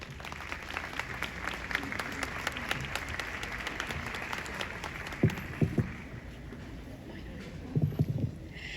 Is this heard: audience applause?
yes